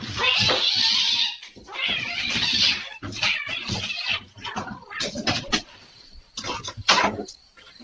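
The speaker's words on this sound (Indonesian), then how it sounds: "Seekor kucing yang melihat makhluk tersebut pun sontak langsung menyerangnya" A house cat yowls and hisses while attacking a strange dwarf-like creature that has entered a home, giving loud, repeated caterwauling bursts with scuffling noise between them, close to the microphone.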